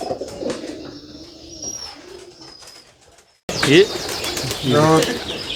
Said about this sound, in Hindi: ये डब वाले कबूतर हैं